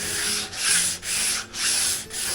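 Sandpaper rubbing by hand across a boat transom during a tin boat transom repair, four steady back-and-forth strokes, close and loud with no talking.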